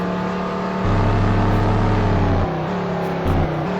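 A NASCAR stock car engine in a racing video game on a Qatar Formula 1 circuit drones loudly and steadily, its pitch stepping down and back up as gears change, with no talk.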